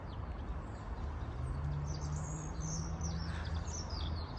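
Birds chirping and calling in a Kyiv botanical garden, several small high tweets scattered over a steady low background hum.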